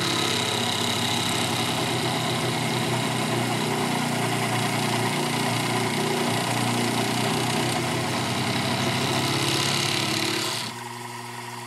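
A Sherline milling machine climb-cuts aluminum, its motor droning loud and steady under load before the pitch drops and the cut ends near the close.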